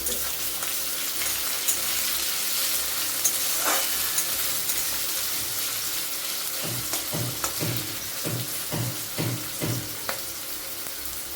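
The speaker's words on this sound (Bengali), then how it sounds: "পেঁয়াজটা আমি লাল করে ভেজে নেব।" Onion frying in a pan gives a continuous sizzle throughout, with a series of scraping stir strokes in the second half.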